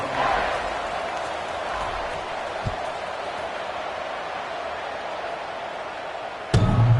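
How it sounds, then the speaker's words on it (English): A stadium crowd in an NCAA college football video game roars as a steady, dense wash of noise throughout, swelling slightly at the start, with a thump near the end. "They're set to kick it off, and this crowd now ready to get behind them."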